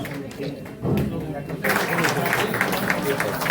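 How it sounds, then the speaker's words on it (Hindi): An audience claps for a doctor at a CME training meeting for rural medical practitioners, with dense applause rising partway through beneath a speaking voice. "जोरदार ताली लगे इनके लिए"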